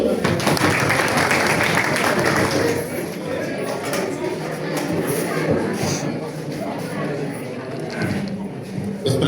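An audience at a college physics department freshers' welcome event applauds, a broad, sustained wash of clapping that stays fairly even and slowly eases, with a voice speaking over it.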